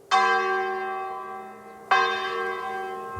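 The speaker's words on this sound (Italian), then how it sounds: "Le campane della chiesa di San Giovanni Battista hanno risuonato nelle strade vuote di Bosconero" Two loud strikes of the bell of San Giovanni Battista church in Bosconero, near Turin, the first ringing out and slowly decaying before a second strike about two seconds later, with long resonant tails.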